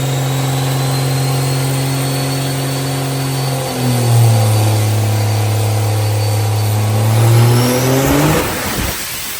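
A car engine fitted with a Whipple supercharger idles loudly, then revs up in two long swells with a whining tone, and finally cuts off abruptly.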